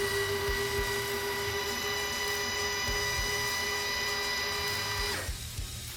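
A SuperATV MaxDrive powered flip windshield motor on a Polaris Ranger whirs steadily with a high electric whine and faint clicking, running near and alone, then cutting off abruptly near the end.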